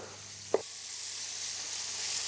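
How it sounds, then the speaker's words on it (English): Anchovies, olives and tomatoes sizzle in a pan with a steady hiss that builds slightly. A single brief clink or tap sounds near the start. "A little bit of sizzle"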